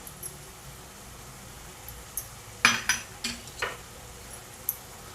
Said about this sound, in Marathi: आता हे मसाले आपण छान असे परतवून घेऊया